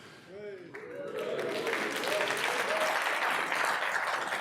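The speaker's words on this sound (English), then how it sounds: "A completely spontaneous round of applause" A conference audience at a Learning Technologies keynote starts cheering and applauding after the host's voice, with vocal whoops early and then sustained, full-room clapping that builds and holds.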